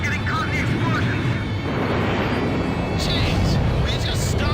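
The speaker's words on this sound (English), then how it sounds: "Rinfaxi launching burst missile! Damn it! Friendlies are getting caught in the explosions." Burst missile explosions in the video game Ace Combat 5: The Unsung War, a loud, dense rumbling roar with crackling bursts that fills the whole stretch, mixed with aircraft noise.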